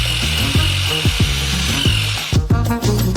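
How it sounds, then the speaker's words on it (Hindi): A construction mixer paddle churns a batch of sugar and water batter in a bucket, giving a loud, steady motor whine over repeated rhythmic thumps and knocks as the paddle turns through the thick mixture. "एक कंस्ट्रक्शन मिक्सर से हम मिश्रण करेंगे।"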